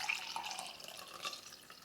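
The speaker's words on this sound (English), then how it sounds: "So I'm just going to put this here and then pour it into this lovely mug." Golden milk with black pepper poured from a pan into a mug, a soft, steady liquid trickle with faint splashes, close and alone.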